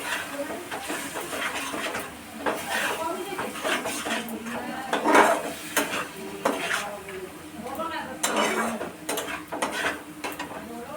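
Sugar is stirred in a pan until it melts for a hog plum chutney, with irregular metallic scrapes and clinks of a spoon against the pan, close and moderately loud.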